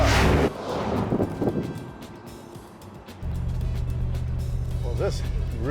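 A low, rumbling 1970s Ford car engine drones steadily while driving under someone talking, growing louder and more throaty as it settles into a constant idle-like growl.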